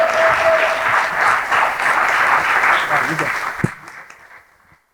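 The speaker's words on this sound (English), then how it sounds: "please give a warm welcome. Big applause" An audience at a podcast meetup applauds to welcome a co-host, brisk steady clapping that fades out quickly near the end, leaving near silence.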